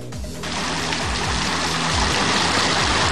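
Babbling stream water recorded outdoors as a natural sound, a close, steady rushing and trickling wash that begins quieter and then holds at an even level, with no voices.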